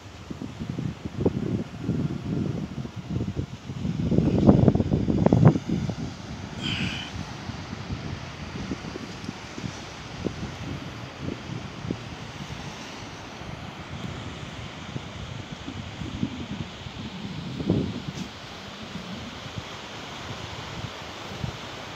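Wind buffets the microphone over a steady wash of surf at Praia de Moitas beach in Amontada, Ceará, with louder gusts early on and no voices.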